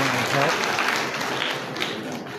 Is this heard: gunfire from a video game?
no